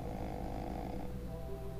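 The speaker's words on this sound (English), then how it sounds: "Oh my god, he's snoring." A character snoring in the video game The Wolf Among Us makes a brief, steady, rumbling drone, heard alone at moderate volume.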